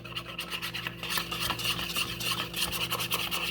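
Powdered gelatin being whisked into heavy cream for a keto chocolate pudding, making a fast, steady scraping and rubbing sound against the bowl that continues throughout.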